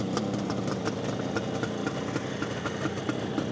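A fully rebuilt 1972 Kawasaki H2 750 Mach IV two-stroke triple idles close by, a steady, loud, rattly burble with quick uneven pops running through it and no voices.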